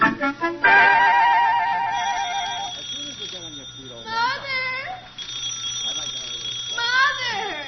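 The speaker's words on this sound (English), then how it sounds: "Wake up, your phone's ringing." An electronic telephone rings with a rapid trilling tone for a couple of seconds, then warbling, wavering vocal sounds follow.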